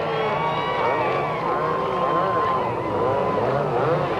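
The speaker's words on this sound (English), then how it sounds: "And now he rides 2 jet skis at once." Jet ski engines droning as a freestyle rider balances on two personal watercraft at once at a 1991 professional world finals, a continuous whining motor tone with shifting pitch, mid-distance, under crowd noise.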